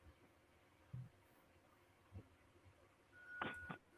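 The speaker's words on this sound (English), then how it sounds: "The phone made a noise." A phone sounds a short electronic notification tone, one faint steady beep near the end after a quiet stretch with soft background thumps; no one speaks over it.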